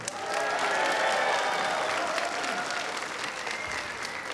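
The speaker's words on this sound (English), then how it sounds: "Everyone, big round of applause for Megaplex's Chairman, Hino." An audience at the Megaplex opening ceremony applauds, with dense, loud clapping that starts right away, holds steady for several seconds, then slowly thins out as the crowd settles.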